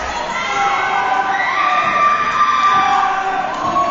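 A wrestling crowd at an RWA Aggression event roars and cheers steadily, a dense wall of voices sustained loudly throughout with no clear pauses.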